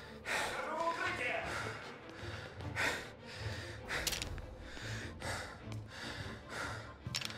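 A game character in Mafia Definitive Edition breathes heavily and nervously, with repeated gasping inhales and snorting exhales in an uneven rhythm, close and fairly quiet, with no words spoken.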